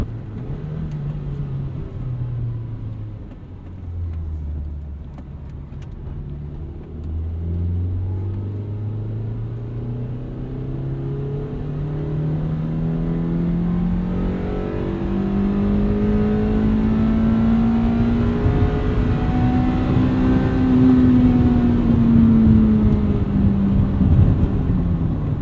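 An engine in a classic Honda sport coupe (EM1 Civic Si or Acura Integra GSR) revs up through the gears, the pitch climbing repeatedly toward high rpm with short dips at each shift, heard from inside the car over road rumble.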